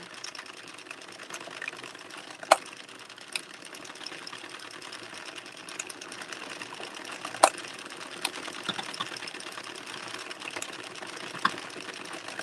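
An Addi circular knitting machine is hand-cranked with yarn, giving a steady, close mechanical clatter with a rapid repeating rhythm and occasional sharper clicks, running continuously with no talk.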